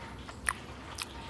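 Two sharp, crisp bites into crispy Korean fried chicken drizzled with spicy sauce, each crunch a short bright crackle about half a second apart, close and clear over quiet room tone with no talking.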